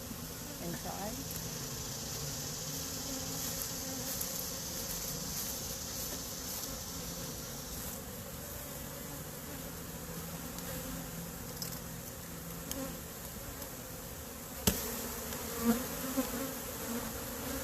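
Honey bees buzz in a steady, dense drone around a hive frame lifted during a backyard hive inspection, close and continuous throughout, with a few brief knocks or handling bumps near the end.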